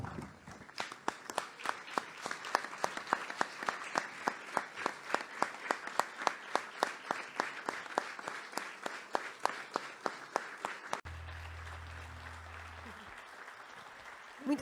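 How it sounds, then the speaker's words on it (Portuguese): A theatre audience gives a standing ovation at an anniversary ceremony for the municipality of Bombarral: dense, sustained applause with steady rhythmic clapping for about eleven seconds, then fading into a softer murmur. "Para estes todos, julgo que temos que uma grande salva de palmas de pé"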